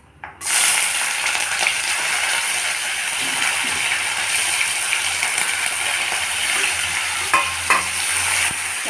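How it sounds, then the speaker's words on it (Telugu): Two spoons of oil heat in a pressure cooker, giving a steady, close hiss and sizzle that starts abruptly and runs throughout, with a few faint clicks and knocks near the end. "ఇప్పుడు కుక్కర్ పెట్టి ఆయిల్ వేస్తున్నానండి."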